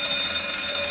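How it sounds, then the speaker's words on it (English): A shrill electronic alarm sounds continuously, a steady high-pitched tone filling the room at a podcast recording, unbroken and fairly loud. "Turn the alarm down."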